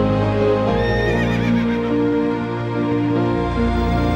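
A horse neighs loudly and close, a long wavering whinny that rises and trembles before fading, heard alone as a sound effect with no voices over it.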